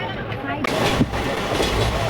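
Interior rumble of a Chennai-bound express train out of CSMT, a steady low roar with faint rhythmic clatter from the rails throughout, with people talking nearby.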